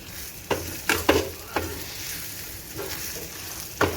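Egg podimas fries in a pan with a steady sizzle, broken by several close, brisk scrapes of a spatula as the scrambled egg is stirred, with no talk.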